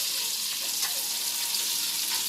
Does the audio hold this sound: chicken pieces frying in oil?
yes